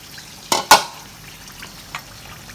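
Rohu fish pieces cook in a pan for a potol curry: two sharp metal scrapes of a spatula against the pan over a faint, low background sizzle, followed by a softer clink.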